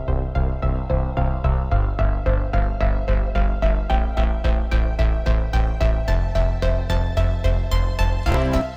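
Descending 80s synth-pop arpeggio stepping down to C, rendered on a synth with bright, rapid evenly pulsed notes over a sustained bass, played loud and steady with no voices.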